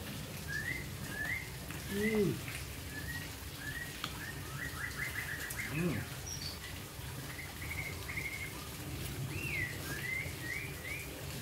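Small birds chirping in a garden, short repeated tweets scattered across the stretch at moderate distance over a quiet background hum, with a couple of lower calls near the start and middle.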